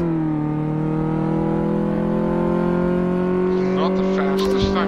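A modern car's engine in Car Mechanic Simulator 2015 drones steadily and loudly, its pitch holding even before a slight rise near the end.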